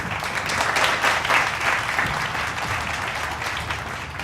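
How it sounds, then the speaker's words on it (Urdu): A studio audience applauds to welcome a guest on a Pakistani talk show about water, sustained clapping across the room that swells early and holds steady to the end. "آپ سب کی بہت ساری تالیوں میں سیمی کمال صاحبہ کو خوش آمدید کہتے ہیں"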